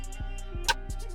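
Crisp rim percussion hit in a trap beat, a single sharp tick cutting through a quick pattern of hi-hat ticks and low 808 kicks.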